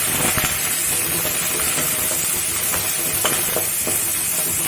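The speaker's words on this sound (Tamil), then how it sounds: "கருவேப்பிலை எல்லாத்தையும் போட்டு நல்லா வதக்கி விட்டுருங்க." Small onions, dried red chillies and curry leaves sauteing in a pan after mustard seeds pop, a dense continuous sizzle with occasional stirring scrapes, close and alone.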